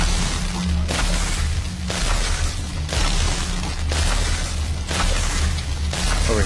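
Repeated booming blasts from grenades in the VR shooter Population: One, loud, broad and noisy, recurring roughly every second over a steady low rumble with no clear talk.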